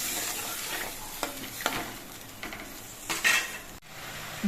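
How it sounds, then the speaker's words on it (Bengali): Kofta curry gravy simmering in a pan while a spoon stirs it, making soft bubbling and sizzling under several distinct scraping strokes against the metal, close and moderately loud, with no voices. "এবার ঝোলটা কিছুক্ষণ ফুটিয়ে নিতে হবে।"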